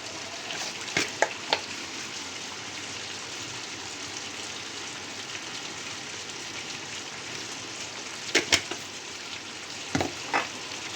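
Steady sizzle of spices and Kashmiri chilli frying in a pan, with a few sharp clinks and scrapes of stirring scattered through.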